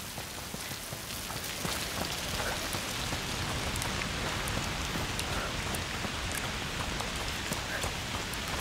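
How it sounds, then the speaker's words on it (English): Steady, dense rainfall from the game A Plague Tale: Requiem, a continuous soft hiss of drops pattering on surfaces, moderately quiet and even throughout with no voices. "Foul rain."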